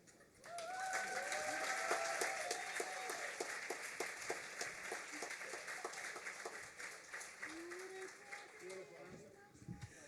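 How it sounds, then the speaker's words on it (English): An audience applauds after a warm welcome speech at the launch performance of a Noongar lullaby album, steady clapping swelling up and carrying on for several seconds, with a raised voice or cheer rising over it near the start. "let's have another clap for Auntie Liz Hayden"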